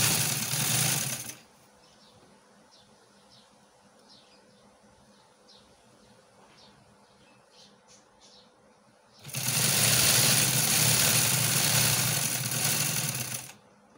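A sewing machine stitches a neckline on chikankari fabric in two loud, close bursts of rapid mechanical whirring, with a quiet stretch between them holding faint chirps and light handling noise.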